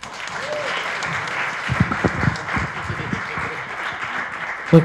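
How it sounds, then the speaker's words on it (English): An audience at a pub talk with a string quartet claps steadily for several seconds, a moderate wash of applause with a few louder claps and a faint voice near the end. "to the audience, can we give a round of applause?"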